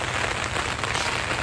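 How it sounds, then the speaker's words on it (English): Rain falling during an outdoor walk makes a dense, loud, even patter close by, steady and unbroken throughout. "Taking a walk in the rain. Do you hear the sound?"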